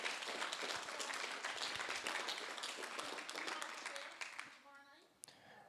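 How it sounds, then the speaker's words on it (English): An audience at a town candidate meeting applauds, dense steady clapping that holds for several seconds before thinning out, with a few voices at the end. "give a round of applause for these candidates"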